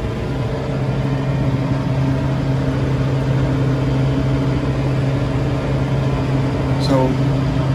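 A brand new tractor runs while raising its three-point hitch, giving a steady mid-pitched engine hum with a faint brief whine near the end. A person talks over the engine.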